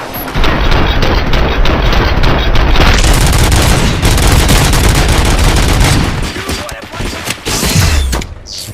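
Heavy, continuous gunfire and booming blasts from a firefight in RoboCop: Rogue City, loud and dense throughout, with dense volleys that thin near the end and a brief voice underneath.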